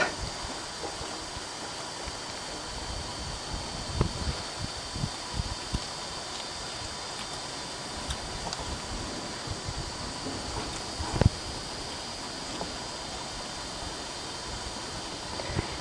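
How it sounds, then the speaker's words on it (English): Wind blows steadily outdoors during a solo horse trail ride, a soft, continuous broadband rush with scattered faint rustles and a few brief knocks, no machinery present. "I hear the wind. I don't hear any mechanical equipment."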